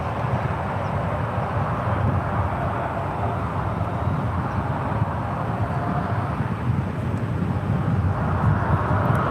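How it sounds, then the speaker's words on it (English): Alaska Airlines Boeing 737 Max 9 from Portland, about two years old, on final approach at San Francisco airport: a steady, broad jet engine roar holding at even loudness throughout, with no voices. "We have an Alaska on final, and then a Southwest Special right behind them."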